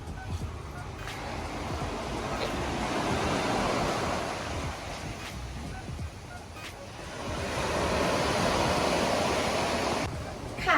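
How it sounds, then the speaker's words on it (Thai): Ocean surf rolls onto the beach at Bophut on Koh Samui, a broad, steady wash that swells and eases in two long waves, with some wind buffeting the microphone. "และนี่ก็เป็นบรรยากาศของชายหาดทะเลบ่อขุดนะคะ"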